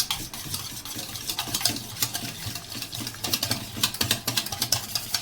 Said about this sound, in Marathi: हे दही मला व्यवस्थित फेटून घ्यायचं आहे